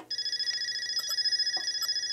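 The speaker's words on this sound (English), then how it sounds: "Now we plug it in, and we go to the test machine, and we see if it rings." A telephone bell rings steadily on a test machine at a phone repair shop, a sustained, loud electric ringing that fills the whole moment, with a few faint clicks beneath it.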